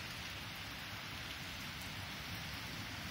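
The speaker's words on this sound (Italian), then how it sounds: "Sta piovendo molto" Heavy rain falls steadily at Santo Stefano al Mare on the Riviera dei Fiori, a dense, even hiss of drops that stays constant throughout.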